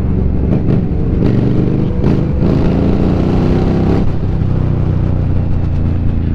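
A group of more than twenty superbikes rides through London, engines roaring loud and close in a continuous low rumble with occasional sharper revs and throttle blips.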